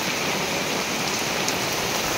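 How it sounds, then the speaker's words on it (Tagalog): Heavy rain drums on a house roof that has started leaking, a loud, dense, unbroken hiss and patter close by with no talk over it. "Ang lakas talaga ng ulan, nabutas na oh."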